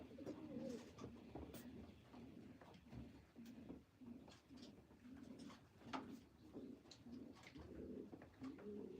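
Pigeons cooing steadily in repeated low rolling phrases, soft and somewhat distant, with scattered faint clicks and rustles around them and no talk.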